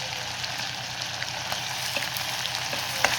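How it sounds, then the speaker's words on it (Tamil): Mutton frying in oil in a pot, a steady, even sizzle with a few soft pops and crackles, fairly close and continuous, with no talking. "இந்த பக்கம் வந்து மட்டன் வந்து கொஞ்சம் வெந்துகிட்டே இருக்குது எண்ணெயில்."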